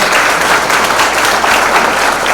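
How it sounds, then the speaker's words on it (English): Audience at a lecture event gives a loud, dense round of applause, continuous many-handed clapping from a large crowd with no voices over it. "So a big round of applause for her as well."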